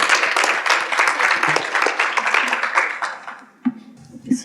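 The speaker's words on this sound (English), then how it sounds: "Let's have a round of applause for her." Audience applause at a talk event as a speaker is called to the stage, a lively burst of many clapping hands that tapers off after about three and a half seconds into a quiet room with brief low sounds.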